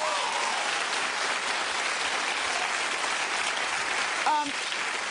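A television talk-show studio audience claps in a loud, sustained, even wash of applause, with a brief voice breaking through near the end.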